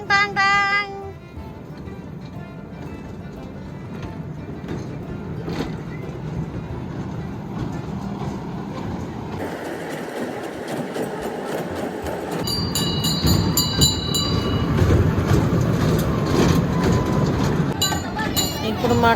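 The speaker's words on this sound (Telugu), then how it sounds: "నెక్స్ట్ మా కళ్ళు ట్రైన్ మీద పడ్డాయి. వాడే డ్రైవర్, వాడే ప్యాసింజర్." A small tourist ride-on train at Venna Lake, Mahabaleshwar, rolls along in a steady, close rumble for about nineteen seconds, with bursts of music and people talking over it.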